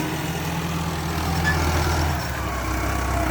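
A Ford 4630 tractor plows, its engine a steady low diesel drone heard at moderate distance, with a slight dip in pitch partway through.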